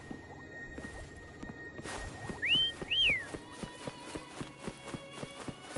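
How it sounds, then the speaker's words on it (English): A character in Wuthering Waves whistles twice to call a companion, two short rising-falling whistles over steady running footsteps and ambient game music. "Try whistling."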